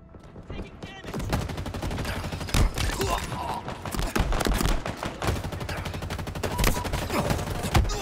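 Dense gunfire from a ranked multiplayer match of Halo Infinite on the Launch Site map: rapid overlapping shots and bursts, loud and continuous, with game effects mixed under them.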